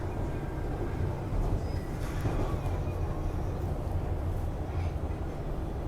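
A train passes outdoors at dawn, a steady low rumble of wheels on rails that holds loud and even throughout, with faint higher squeals above it and no talk.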